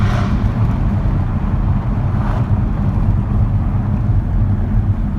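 A Jaguar F-Type SVR on the move gives a loud, steady low engine and exhaust drone from inside the car, mixed with road and wind roar, sustained without pauses and with no talking.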